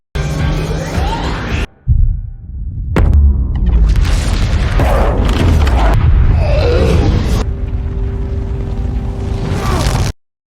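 Loud booming blasts from a missile explosion erupt and rumble in succession, with deep low-end thuds and crackling debris, a brief silent gap near the start.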